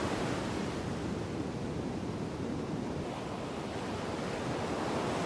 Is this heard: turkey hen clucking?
no